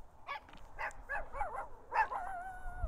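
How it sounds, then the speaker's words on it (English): A small dog barks and yips several times in quick bursts, ending in a drawn-out whine, fairly close but not loud. "Another barking ass dog."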